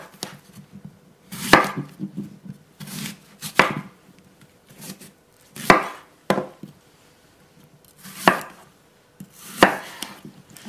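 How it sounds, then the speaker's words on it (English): A knife chops an apple along the core on a cutting board, giving five or six crisp, close chops at irregular intervals with quiet pauses between them and no talking. "The next thing we're going to do is chop an apple. What I like to do is I like to cut along the core."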